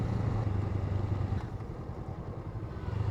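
Honda Rebel 500 motorcycle engine on a mountain road just after a downshift into a lower gear, a close, steady rumbling drone held at constant revs throughout.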